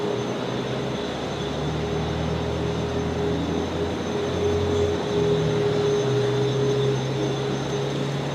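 An Emirates Airbus A380 at Brisbane Airport at night, a steady loud jet engine drone with sustained whining tones and a broad rumble throughout.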